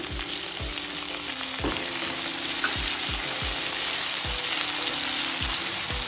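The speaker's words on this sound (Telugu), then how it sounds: "కొద్దిగా సాల్ట్ వేసి వేయించుకోవాలి" Tomato and vegetable pieces fry in a pan with a steady, close sizzle, broken by regular scraping strokes of a stirring spoon about every half second, with no talking.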